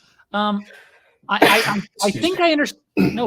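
A single sharp sneeze breaks out, followed by someone speaking briefly in an interview setting.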